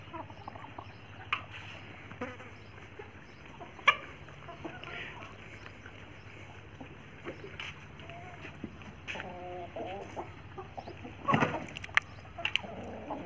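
Desi chickens feed on green fodder and grass, with soft clucks, scattered pecking and scratching, and low murmuring background noise throughout.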